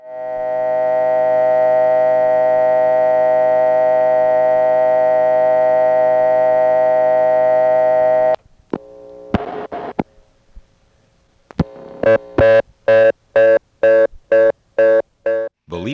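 A step-by-step senderized telephone exchange line gives a long steady tone, then a few clicks and switching noises, followed by a rapid on-off pulsed reorder tone, loud and close.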